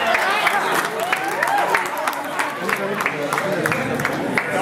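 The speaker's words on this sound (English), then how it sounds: "Family and friends, one more round of applause" Wedding guests clap for the couple at a reception, a lively but uneven patter of hands mixed with overlapping chatter and voices close by.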